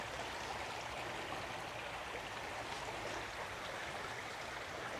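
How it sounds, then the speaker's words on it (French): Small stream flowing outdoors by a lakeside path, a steady, even rush and babble of water that continues unbroken throughout, moderately close with no voices. "Joli petit ruisseau là."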